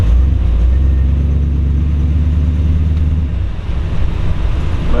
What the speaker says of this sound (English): Shift through the gears.